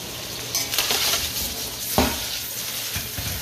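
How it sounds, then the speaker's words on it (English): Eggplant fries in a wok on an electric stove, a loud continuous sizzle broken by bursts of scraping as the pieces are stirred and tossed against the metal. "frying it like this will also keep your eggplant nice and purple as well"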